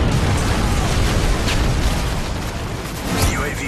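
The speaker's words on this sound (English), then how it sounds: "Friendly Predator missile inbound." A Predator missile strike in a video game, a dense rumbling blast with a rolling boom, loud and sustained throughout amid game chatter.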